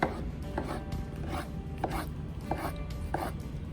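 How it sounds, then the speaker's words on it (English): A knife slices through mushrooms on a cutting board in a series of soft, regular cuts, each ending in a dull tap on the board, close and fairly quiet with no talking. "I'm just going to slice a couple mushrooms"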